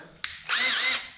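A hammer drill in hammer impact mode gives a sharp click, then spins up in a loud, close, whining burst for about half a second before easing off.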